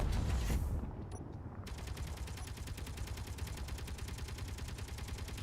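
In the Space Engineers video game, a turret fires rapid, evenly spaced automatic bursts of gunfire in a steady rattling stream, after a brief heavier blast at the start, with no voices heard.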